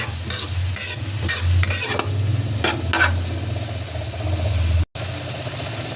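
Ground meat (giniling) with carrots sizzles in a pan while a utensil scrapes and stirs it in repeated strokes, close and steady over a low hum, with a brief cut near the end.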